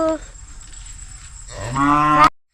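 A cow lets out a loud, deep moo nearby that swells and rises before cutting off, after a brief lowing at the start, near a cow shed in an areca nut plantation in Tumkur.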